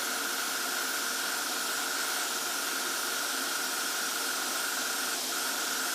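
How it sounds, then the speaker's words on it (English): Airbrush blowing a steady stream of air over a painted 1:35 scale Tamiya T-55A tank crew figure, an even, soft hiss that holds unbroken throughout and stays close and constant. "Just giving him a wee blow off with air."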